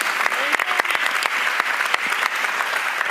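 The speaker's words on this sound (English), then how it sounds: "Please join me in a round of applause for our panel" An audience at a youth summit in Miami applauds a panel with steady, dense clapping, some sharp individual claps standing out from the crowd.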